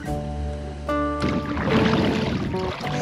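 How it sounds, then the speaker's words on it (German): A dinghy is pushed through shallow water out toward deeper water in the Sea of Cortez, Mexico, with a humming tone giving way to close splashing and sloshing water. "Das Dinghy wird jetzt wieder ins tiefe Wasser gebracht."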